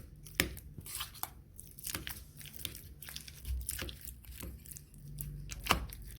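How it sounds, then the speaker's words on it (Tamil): Boiled tapioca being mashed by hand for cutlets, close soft squishing and pressing sounds in uneven bursts with occasional sharper knocks against the bowl. "இப்போ இதை நல்லா மசிச்சுக்கலாம்."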